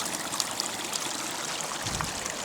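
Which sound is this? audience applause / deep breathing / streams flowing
streams flowing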